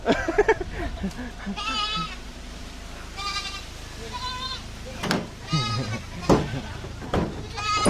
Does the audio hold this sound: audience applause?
no